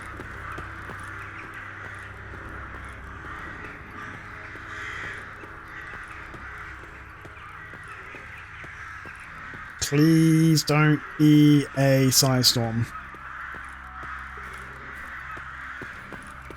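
Harsh, loud crow caws from the Murder of Crows mod in S.T.A.L.K.E.R. Anomaly burst out in a cluster of several calls over a quiet ambient background, with brief speech earlier.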